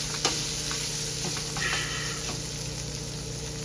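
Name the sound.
bacon frying in a pan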